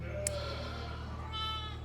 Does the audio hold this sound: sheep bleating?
yes